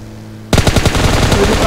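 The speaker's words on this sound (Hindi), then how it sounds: "फायर खोल दो" Rapid bursts of M249 machine gun fire in the PUBG video game erupt after half a second of near silence, loud and sustained with dense repeating shots.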